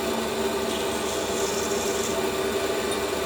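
Hand chamfering of a small Delrin plastic part, a steady, close scraping rasp that continues evenly throughout with no talk.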